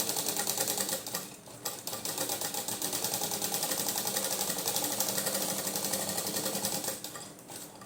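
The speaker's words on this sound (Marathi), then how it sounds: "आपण एकदम हळूहळू शिवूयात" A sewing machine stitches the lining of a blouse, giving a steady, rapid mechanical whirr with a fast needle rhythm that runs close and loud for several seconds, broken only by a short dip, with no talk.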